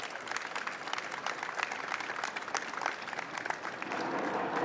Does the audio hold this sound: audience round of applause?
yes